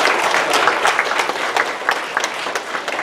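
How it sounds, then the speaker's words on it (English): A crowd applauds steadily after a mayor's public reading of Where the Wild Things Are, dense clapping filling the whole stretch at an even, fairly loud level with no voices standing out. "Give her a big round of applause, everybody."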